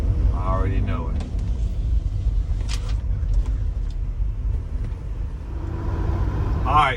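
A rented 10-foot U-Haul box truck on a test drive, with steady low engine and road rumble from inside the cab throughout and a person talking over it.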